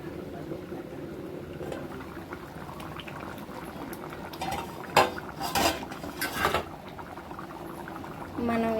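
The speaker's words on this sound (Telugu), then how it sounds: "ఇప్పుడు బాయిల్ బాగా ఉంటుంది, కూర కుతుకుతలాడుతుంది" A pot of curry with coriander boils steadily, giving a continuous bubbling hiss, with a few clinks of utensils against the pot in the middle of the clip and possible faint voices in the background.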